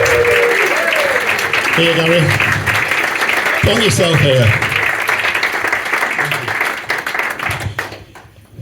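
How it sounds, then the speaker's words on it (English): Audience applause welcoming a guest at a retro gaming live event, loud sustained clapping that fills the room and slowly fades while someone speaks over it near the microphone. "Huge round of applause,"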